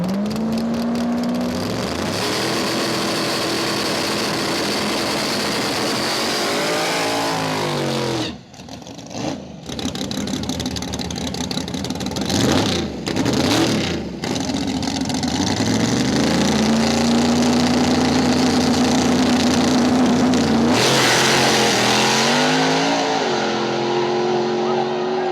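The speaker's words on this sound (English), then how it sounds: "the Red Mustang, a race car, versus Lieutenant Dan and the Green Mustang, a street car." Two Ford Mustangs, a red race car and a green street car, drag race on the street, with loud revving engines, a brief cut-off, then hard acceleration building to a sustained roar that fades near the end.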